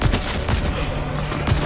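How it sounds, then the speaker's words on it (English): Rapid shotgun blasts in the video game Fortnite, several sharp bursts in quick succession over a dense, busy battle mix with no talk. "Oh my god, this dude's got a shotgun."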